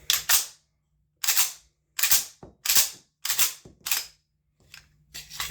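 Sharp, loud gunshots ring out one after another while a modified magazine is test-fired, about eight distinct reports with short gaps and one quick double shot.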